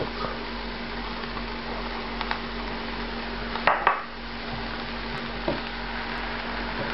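Chopped carrots, celery and shallots hit a hot pan for a medieval French roast pork dish, giving a steady soft sizzle with a couple of brief clatters of utensil against the pan partway through.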